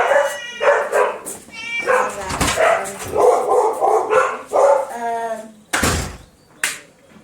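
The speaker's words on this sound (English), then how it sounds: "Calm down these crazy dogs." Dogs bark, yip and whimper in The Walking Dead video game, with repeated sharp barks spread across the clip. Someone talks over them throughout.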